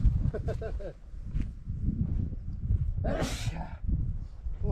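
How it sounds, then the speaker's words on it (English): A single sharp sneeze bursts out midway, between stretches of casual conversation. "I'm going to sneeze, sorry."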